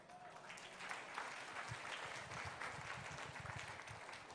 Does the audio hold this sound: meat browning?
no